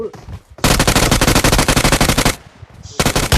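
Automatic gunfire in PUBG Mobile rattles out in a long, loud, rapid burst of evenly spaced shots, pauses briefly, then resumes in a second burst.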